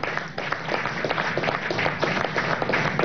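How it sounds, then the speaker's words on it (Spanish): A crowd applauding at the Zamora-200 civic-military exercises in Venezuela, a dense, fairly loud burst of many people clapping steadily throughout, with the sound slightly muffled and heard from the midst of the gathering. "desde aquí le damos un aplauso"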